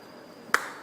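A single sharp hand slap to swat a mosquito, one crisp smack rising out of a quiet background before a short fading tail.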